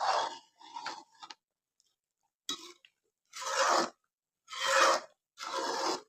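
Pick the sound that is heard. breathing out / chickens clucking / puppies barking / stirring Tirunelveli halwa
stirring Tirunelveli halwa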